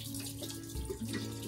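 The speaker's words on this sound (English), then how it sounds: "I'm just gonna pour all this in" Cooled liquid poured from a pot into another vessel, a soft, steady, quiet stream of splashing flow running for the whole moment with no voices.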